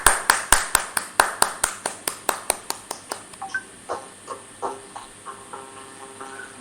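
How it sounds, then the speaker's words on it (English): Sharp, evenly spaced handclaps ring out at a yoga training session, a quick steady rhythm of single loud claps that slows and grows fainter, ending in scattered softer claps. "may I request a huge round of applause to this inspiring lady"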